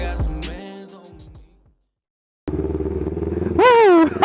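A motorcycle engine idles with a steady throb after a brief silence, then revs up and down loudly near the end.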